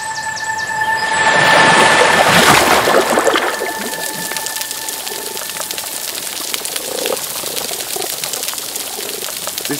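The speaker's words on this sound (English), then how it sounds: "This is the sound of a healthy reef recorded in the Philippines by Mary Shodipo." A healthy coral reef in the Philippines recorded underwater: dense crackling and snapping clicks form a busy continuous bed, with a loud whooshing swell early on and a few steady tones running through it.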